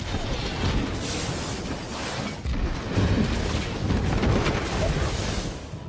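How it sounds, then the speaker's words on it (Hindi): Deep, sustained roaring rumble of a massive explosion, rolling and surging in waves without letup, like a prolonged blast. "परमाणु बम से हमला।"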